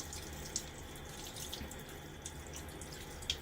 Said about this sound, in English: I'm going to rinse that off the side of the tub.